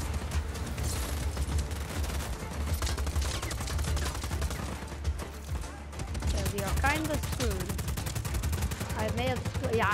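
Gunfire in Just Cause 4, dense and continuous shooting with bursts and rapid volleys filling the whole stretch, loud and close, with a voice talking over part of it.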